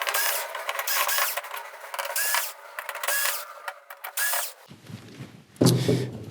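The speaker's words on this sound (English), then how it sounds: "And then we've just got a handful of screws." Screws being backed out while disassembling a Samsung UN58J5190AF television, close rapid clicking and ratcheting of a power screwdriver in repeated bursts, followed by brief handling clatter.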